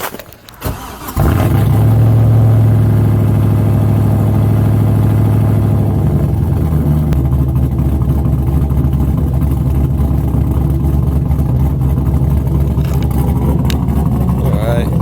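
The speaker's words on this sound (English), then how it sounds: "I'm gonna get a little cold start clip" An LS-swapped Mazda Miata cold-starts on a snowy day: the starter cranks briefly, then the V8 catches into a loud, deep rumbling high idle that drops to a steadier, lower idle partway through and keeps running.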